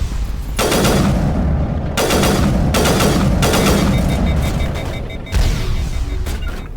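Gunfire from the Mass Effect video game: loud, dense bursts of shooting fill the whole stretch, broken by brief pauses between volleys, with sharp impacts rising above the steady barrage.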